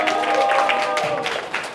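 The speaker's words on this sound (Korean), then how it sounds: "박수 주세요." A church youth congregation applauds a certificate award, with dense, steady clapping running throughout and mixed with faint voices.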